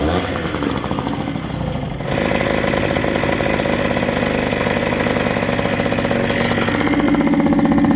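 A Suzuki TS50X two-stroke dirt bike engine from the 1980s runs steadily after a push start, a loud continuous buzzing drone that lifts slightly in level after the first couple of seconds and holds throughout.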